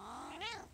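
A house cat lets out a single short, rising-and-falling meow, close and fairly quiet, with no talking.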